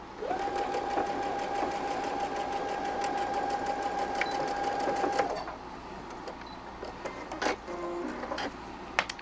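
Sewing machine running steadily for about five seconds while stitching flange binding, a fast even whirring hum, then stopping, followed by fabric handling and small clicks and taps.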